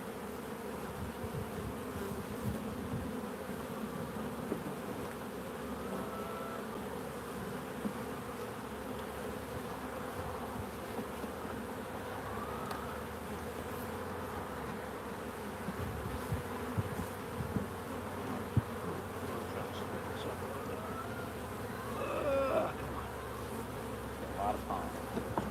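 Honey bees buzz steadily as a dense, continuous drone throughout a beehive inspection while frames are moved and bees are shaken into a nuc, with occasional brief louder bursts near the hive.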